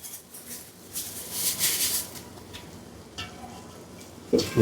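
Cabbage tipped into a hot pan and stirred as it fries, with a soft steady sizzle, scraping stir strokes swelling and fading, and a louder clatter of utensil against pan at the end.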